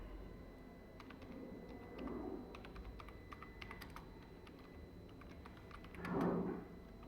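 Computer keyboard keys tapped in a steady stream while a folder name is typed, with two brief louder bursts of keystrokes; quiet and close, with no talking.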